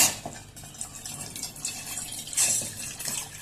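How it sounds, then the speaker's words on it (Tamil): Water, 200 ml, poured into a bowl in a home kitchen while making homemade chocolate syrup, a continuous close splashing trickle that rises briefly near the end, with no talking. "நீங்க வச்சிருக்கிற 200 ml வாட்டர் எடுத்துக்கங்க, உள்ள ஆட் பண்ணலாம்."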